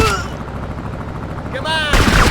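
Gunfire in GTA Liberty City Stories on PSP, a steady rapid stream of shots filling the short stretch, loud and continuous, with a denser burst near the end.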